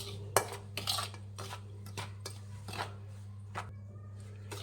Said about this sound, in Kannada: ಈಗ ಮಿಕ್ಸ್ ಮಾಡ್ಕೊಳ್ಳೋಣ ಫ್ರೆಂಡ್ಸ್ ನೋಡಿ ಫಸ್ಟು ಡ್ರೈ ಮಿಕ್ಸ್ ಮಾಡ್ಕೊಳ್ಳಿ